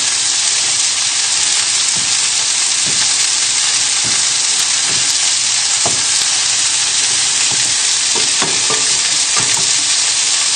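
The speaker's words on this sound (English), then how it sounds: "keep stirring your tomatoes and just lightly pressing them against the side of the pan" Tomatoes frying in a pan with lamb nearby, a loud steady sizzle throughout with scattered soft scrapes and knocks from a utensil stirring and pressing them against the side of the pan; no talking.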